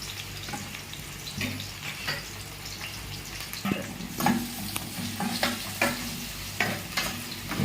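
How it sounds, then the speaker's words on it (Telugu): Sliced onions and green chillies fry in hot oil in a pan for chicken curry, giving a continuous close sizzle broken by repeated scraping and clacking as a utensil stirs them in irregular bursts, with no one talking. "ఉల్లిపాయలు మంచిగా బాగా రెడ్ కలర్ వచ్చేదాకా మనం ఉల్లిపాయ బాగా వేసుకోవాలి, మగ్గిపోవాలి, ఫ్రై చేసేసుకోవాలి"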